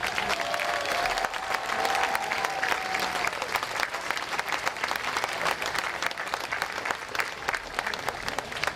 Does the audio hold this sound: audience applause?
yes